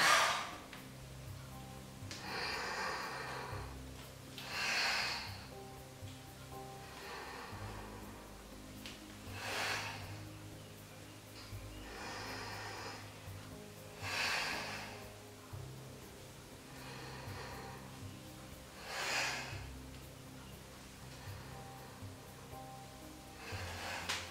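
Slow, deep breaths during a Pilates stretch, each airy inhale and exhale rising and falling every few seconds, soft and close over a low steady background hum, with no talk.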